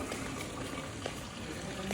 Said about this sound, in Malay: Ni saya ada air terjun.